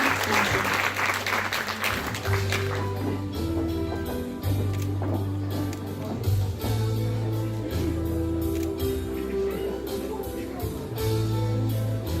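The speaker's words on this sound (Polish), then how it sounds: "Jeszcze raz gorące brawa dla wszystkich nagrodzonych trzecioklasistów" Applause at a primary school awards ceremony for third-grade pupils in Knurów, Poland; sustained clapping from the gathered audience, loudest at the start and then settling into a lighter steady patter with some background music.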